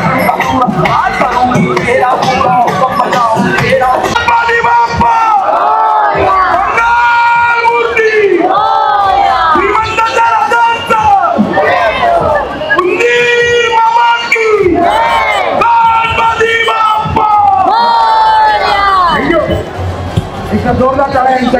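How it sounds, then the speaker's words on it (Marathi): A dense festival crowd at a Ganpati immersion procession cheers and chants in loud, continuous waves of massed voices, sustained for over twenty seconds close to the listener with no pause. "जोरदार टाळ्या यांच्याकरता काय जयकारा दिलेला आहे."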